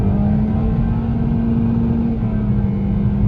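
A 2019 Toyota Corolla SE hatchback with CVT accelerating, heard from inside as a loud steady engine drone with a strong low hum that holds throughout, no talk.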